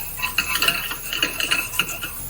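Small pasta shells for sopita being stirred and toasted in a pan, giving soft scraping clinks and rustles at an uneven pace, close and moderately quiet.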